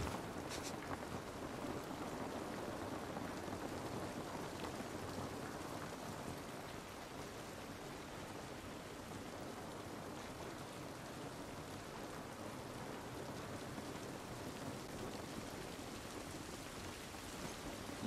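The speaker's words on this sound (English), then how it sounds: "This rain ain't gonna do us any good." Steady rain falls continuously outdoors in the video game The Last of Us Part 1, a soft even hiss of drops on surfaces with no talking.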